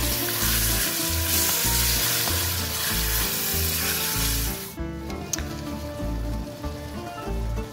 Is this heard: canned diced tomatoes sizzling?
yes